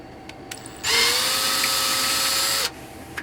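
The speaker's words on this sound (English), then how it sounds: "So it's just a matter of drilling out the rest of the holes" A power drill with a 5/32 bit bores out holes for the hinge tabs of a Technics SL-D202 turntable, a steady high whine held for about two seconds, close and loud, then stopping abruptly.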